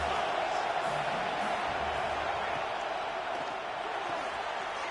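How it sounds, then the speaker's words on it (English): Home stadium crowd at a college football game between TCU and Oregon, a steady loud roar of cheering and noise that holds for the whole stretch without a break. "Man, this crowd really affecting the football game."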